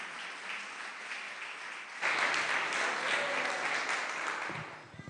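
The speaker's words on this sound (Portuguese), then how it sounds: "Uma salva de palmas pela graça de ver o irmão aqui." A church congregation at a Portuguese-language worship service breaks into loud, dense applause after about two seconds of quieter room murmur, and the clapping stays strong before fading at the end.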